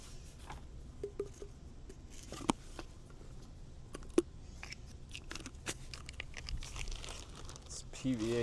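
PVA mesh for carp fishing being handled on a riverbank, soft intermittent crinkling and crunching with sharp little clicks, close and quiet, with someone talking at points.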